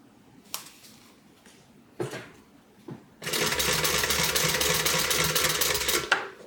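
A sewing machine stitches binding onto the edge of a multi-compartment tote bag, a few short clicks at first and then a loud, continuous mechanical whir for about three seconds before it stops, close up and with no talking.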